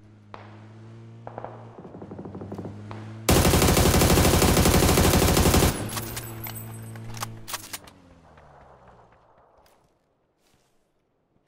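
Gunfire in the video game PUBG: a dense, loud burst of automatic shots lasting a couple of seconds, framed by scattered single shots and footsteps, then fading to quiet.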